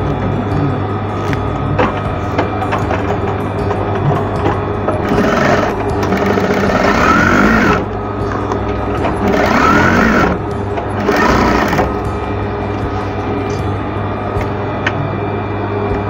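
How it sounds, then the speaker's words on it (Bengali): A sewing machine stitches an apron in three separate bursts of fast, rattling running, the first longest, set against a constant low background hum. "দুই মাথায় কিন্তু আমরা সেলাই করে নিলাম।"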